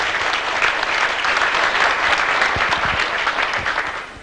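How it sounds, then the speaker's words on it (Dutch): An audience at a 1995 local broadcast event in Dirksland, Goeree-Overflakkee, gives a loud, sustained round of applause, dense clapping throughout that eases slightly toward the end. "Ik vind dat we voor jullie met elkaar een geweldig applaus moeten laten horen"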